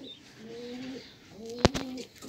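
Domestic pigeons in a loft give soft, low cooing over light background hiss, with a brief sharp knock or flutter near the end.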